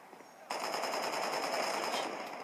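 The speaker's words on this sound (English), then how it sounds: "who the heck is shooting at me?" Rapid machine gun fire in the video game Crackdown bursts in suddenly and rattles continuously for about a second and a half, fairly loud over a quiet background, no talk.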